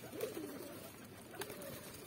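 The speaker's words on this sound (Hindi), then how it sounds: "कबूतर उड़ रहे हैं।" Black pigeons cooing at close range outdoors, two soft, low rolling coos heard briefly over a quiet background hiss.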